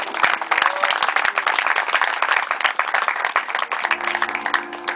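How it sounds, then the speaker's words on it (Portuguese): A church congregation at a tenth-anniversary service applauds vigorously with sharp, crisp claps close by, a busy dense clatter that continues throughout, with a faint tonal hum entering near the end. "E aplaude o Senhor"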